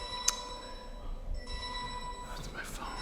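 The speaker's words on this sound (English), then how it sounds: "that's my phone" Mobile phone ringing with a steady electronic tone and bright harmonic beeps, heard moderately loud in a quiet room while people talk.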